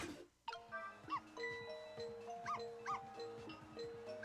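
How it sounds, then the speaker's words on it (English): A dog barking in the video game Ghost Trick, a string of repeated yappy barks with whining, pitched tones over background game music, close and fairly loud. "Noisy ass dog"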